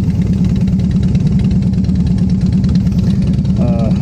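A 2009 Harley-Davidson Dyna motorcycle engine idles close by, a steady loud low-pitched throbbing that holds for the whole stretch with no talk over it.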